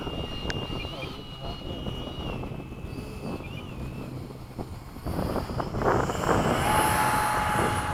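A Hawk jet aircraft's engine roars steadily through its takeoff roll in a sunset formation, a broad wind-buffeted drone that grows louder in the final seconds.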